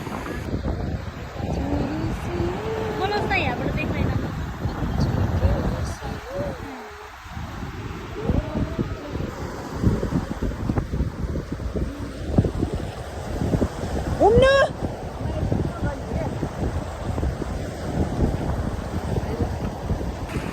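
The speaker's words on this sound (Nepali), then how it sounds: "हावा चाहिँ मिठो आइरहेको होइन" Wind blows steadily across a hilltop viewpoint at night, a loud buffeting rumble against the microphone that runs the whole time, with faint voices and a brief whistle-like call mixed in.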